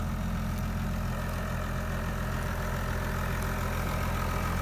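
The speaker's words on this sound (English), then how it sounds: "I warmed up the tractor" A warmed-up farm tractor engine idles steadily nearby, a low even throb with a faint knocking pulse that holds constant throughout, with no talk.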